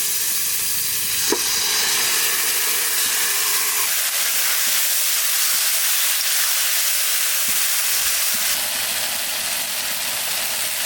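Chillies and taro greens sizzle and hiss steadily in a hot pan, a continuous frying crackle with a few sharp stirring clicks, close and alone with no talk.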